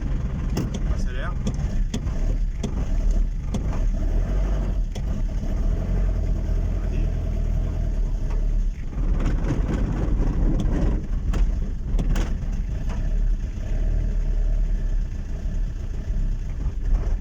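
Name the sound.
4x4 diesel engine idling roughly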